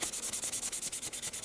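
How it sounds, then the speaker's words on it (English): Scouring pad scrubbing a blank steel piece to take the dullness off, a close, rhythmic rasping back-and-forth of about a dozen quick even strokes, alone with no talk. "I'm going to clean it up with a scouring pad"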